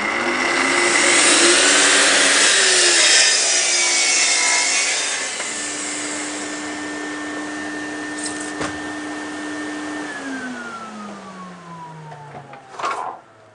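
A track saw rips through a wood panel, a loud whining cut that eases into a steady motor hum and then spins down with a falling pitch, with no voices.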